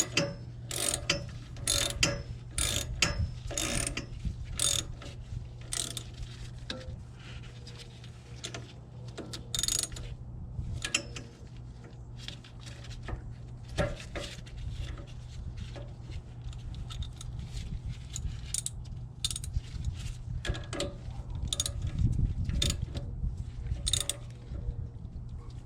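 Bolts being tightened on a Nissan P11 transmission fitted into a GTi-R swapped B13 Sentra SE-R: rapid ratchet clicking comes in bursts over a low steady hum, with brief pauses between runs.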